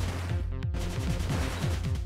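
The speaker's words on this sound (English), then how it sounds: "If I shoot this gun" Rapid, evenly spaced gunfire from a small gun in the 2D game Cave Story+, loud and continuous over a steady music bed, with no talking.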